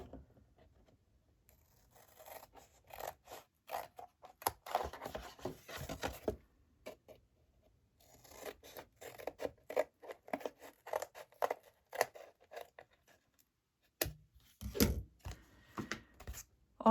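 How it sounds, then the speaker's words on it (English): Scissors snipping through a book cover while making a Golden Book cover craft, a run of crisp, close cuts in irregular bursts with brief pauses, and no talking. "And I'm going to go ahead and cut this."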